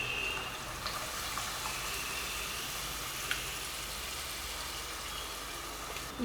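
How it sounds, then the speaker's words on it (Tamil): Water is poured into garlic kuzhambu simmering in a pan, giving a faint, steady hiss and gentle sizzle that runs continuously with a few small clinks. "இன்னும் கொஞ்சம் தண்ணி சேர்த்து கரைச்சி மறுபடியும் அந்த தண்ணியை விடுறேன்."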